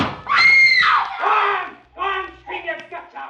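A woman in a radio drama lets out a long, loud, close scream, followed by a few shorter strained cries and sobs.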